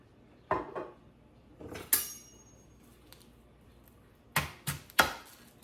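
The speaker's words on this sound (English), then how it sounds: "we're gonna cut up our onion real quick" Kitchen knife chopping a fresh onion on a cutting board, a handful of sharp, separate cuts spaced irregularly, with a couple of quick double strokes, close and fairly crisp against a quiet room.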